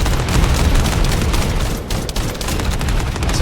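Dense, continuous gunfire in a video game firing range, loud and sustained with rapid overlapping shots and no pauses, hitting a target dummy.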